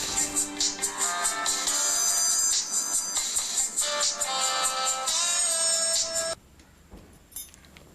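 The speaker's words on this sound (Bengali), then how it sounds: "তোর মেয়ের ফোন বোধহয়, দেখ।" A mobile phone ringtone plays loud and steady as a repeating melodic electronic tune in a home, lasting about six seconds before cutting off to near silence, with a brief faint sound afterward.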